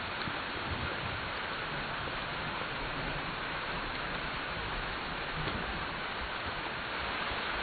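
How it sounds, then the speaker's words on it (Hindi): Steady, even rain falling, a constant soft hiss of drops on a surface, with no voices. "बारिश कब रुकेगी?"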